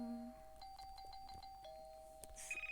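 A doorbell at a home rings with a sustained electronic chime tone, faint and held for a couple of seconds over a quiet room, with a few small clicks and no talking.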